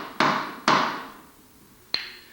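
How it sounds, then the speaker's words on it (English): Mallet tapping a bearing into a motorcycle wheel: two firm, close knocks about half a second apart, each ringing briefly, then a sharper, lighter tap after a pause. "keep the mallet square and just gently work it in there"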